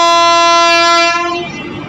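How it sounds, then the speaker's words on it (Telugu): A passenger train bound from Karimnagar to Tirupati sounds its horn while leaving platform one at Karimnagar station, a loud sustained close blast that cuts off after about a second and a half, leaving the rumble of the moving train. "ట్రైన్ సౌండ్ వింటేనే ఫుల్గా ఉంటుంది."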